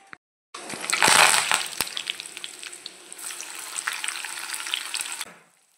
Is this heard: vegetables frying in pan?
yes